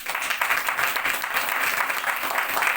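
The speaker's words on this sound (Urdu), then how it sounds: "تالی ہے اس بات پہ" A church congregation applauding during a Christmas sermon, a dense, loud, sustained round of clapping from many hands with no voices over it.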